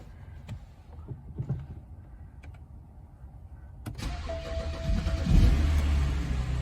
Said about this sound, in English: Try to start the vehicle.